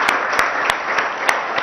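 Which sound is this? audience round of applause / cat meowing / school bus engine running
audience round of applause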